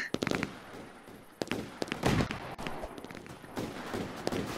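Repeated sharp pops and bangs of video-game fireworks, irregular and fairly loud, over a constant noisy background.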